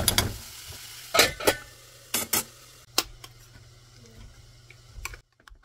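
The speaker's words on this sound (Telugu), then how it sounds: "ఈ లోపల బాణల్లో కూర అయితే స్టార్ట్ అయింది" Vegetable curry with salt and turmeric cooking in a pan on a home stove, heard as intermittent scraping stir and clatter sounds over a low steady hum, with quieter gaps and sharp utensil knocks.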